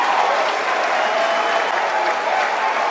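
Crowd of spectators cheering and applauding during a SpaceX Falcon 9 rocket launch as the fairings deploy; loud, sustained, dense clapping and crowd noise filling the whole stretch.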